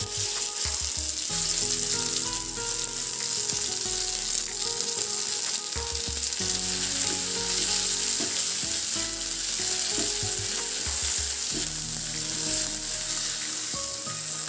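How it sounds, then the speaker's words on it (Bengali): Green pea paste sizzles and fries steadily in ghee in a frying pan, a dense close crackle running the whole time with soft stirring scrapes and no voices. "এবার কড়াইশুঁটিটি ঢেলে দেব।"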